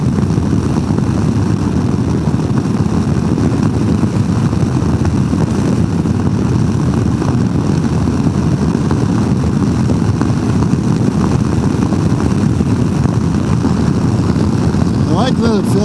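Royal Enfield Himalayan 450 motorcycle on a test ride, its engine a steady drone buried under constant, loud wind rush from the windshield, with a muffled voice faintly underneath.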